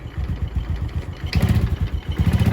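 Honda Dream 125 with a carburetor fault and an automatic clutch, its engine throbbing loudly and close up, then revving harder as the throttle is twisted, pulsing steadily with no talking.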